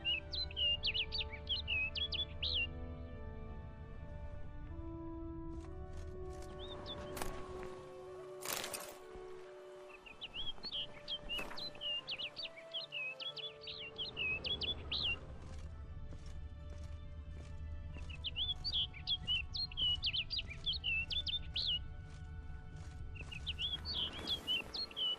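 A video game bird chirps in repeated quick bursts of bright tweets over a sustained musical drone, with a heavier crashing passage partway through.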